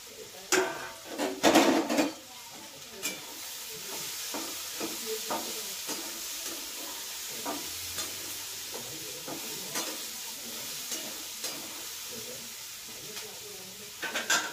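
Onion fries in a hot pan, sizzling steadily under repeated clinks and scrapes of a spoon stirring against the metal. A few louder clatters come early, then the stirring settles into an irregular rhythm.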